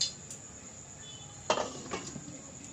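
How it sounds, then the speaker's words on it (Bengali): A metal lid is set onto a cooking pot on a gas stove, giving one clear clink midway followed by a softer rattle, close but quiet over a faint background hum. "এবার আমি এটা ঢাকা দিয়ে দেব।"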